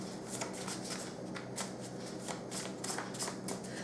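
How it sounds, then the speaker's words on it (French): Tarot cards being shuffled by hand, a steady run of crisp riffling bursts repeating every half second or so, close and clear with no talking. "Voilà pourquoi je bats et effectue mon tirage hors caméra."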